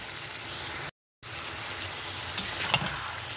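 Boiled potatoes and cauliflower sautéed with spices in an uncovered pan give a steady, moderate frying hiss, broken by a brief silent gap and a couple of small stirring clatters near the end.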